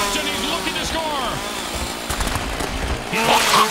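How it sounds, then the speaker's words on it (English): Chainsaw engine buzz in a football video game, a wavering revving drone with pitch sweeps that rises louder near the end, mixed with other game sounds. "All the players getting chased with chainsaws."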